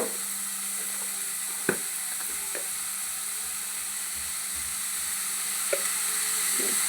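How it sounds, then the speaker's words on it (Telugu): Onions frying in a pan with salt added, a faint steady sizzle with a few small clicks and stirring knocks, no talking. "ఇవి ఇలా ఫ్రై అవుతున్నాయి కదా"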